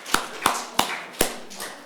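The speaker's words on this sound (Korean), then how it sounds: "박수 한번 하십시다" A Korean church congregation in Oxnard gathered for Sunday worship gives four crisp, evenly spaced claps in unison, close and sharp, with a softer fifth trailing off.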